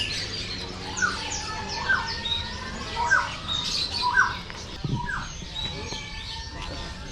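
Birds chirp outdoors in Yogyakarta, Indonesia, with repeated short, bright calls at moderate distance over a steady background hiss of ambient noise.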